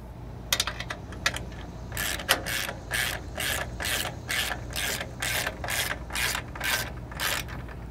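A ratchet wrench clicks in quick regular bursts, about a dozen strokes in a row, as bolts are tightened on a trailer jack mount, close and alone with no talk.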